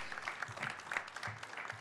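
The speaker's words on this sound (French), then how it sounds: "je vous propose d'applaudir évidemment ce premier témoignage" Audience applause after a talk at a conference on connected housing: brief, faint, steady clapping from a room crowd, with no voices over it.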